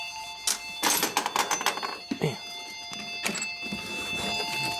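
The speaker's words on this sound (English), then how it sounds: "Telephone." A telephone bell rings in a motorcycle shop during a Harley shovelhead engine rebuild, sounding in several bursts amid workshop clatter and brief speech.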